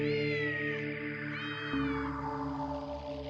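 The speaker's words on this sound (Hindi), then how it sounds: "एक दिन कॉलेज से लौटते वक्त शौनक ने एक जख्मी बिल्ली को देखा।" Several long, pleading meows from an injured cat, rising and falling in pitch, close and fairly loud over a steady low musical drone, with a second cry joining midway.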